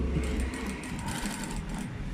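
Close, steady whir of a sewing machine stitching a curved seam in fabric for an A-line frock, running continuously without pause.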